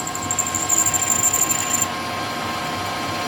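A drill bores a 6.8 mm hole for an M8 thread in a workshop, a steady mechanical whir with a high whine that runs for about two seconds and then stops, leaving only quiet room noise.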